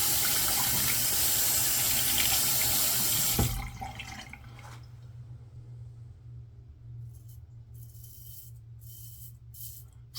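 A bathroom tap runs hard to warm a shaving razor, giving a loud, close, steady rush of water for about three seconds before it shuts off and leaves a quiet room with a low hum and faint clinks.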